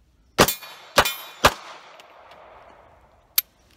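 Beretta 84FS Cheetah pistol firing rounds at an outdoor range, three loud close shots in quick succession with ringing decay, then a pause and a single fourth shot.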